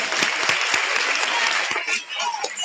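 An audience at a school talent show breaks into steady, dense applause, a sustained wash of clapping heard close, with a voice briefly audible over it.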